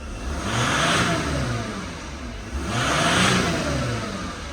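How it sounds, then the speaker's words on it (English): A Mercedes Sprinter van's diesel engine revving twice, each rev swelling into a strong rising roar then easing back to idle, close and loud with no voices. "And then when we rev it up,"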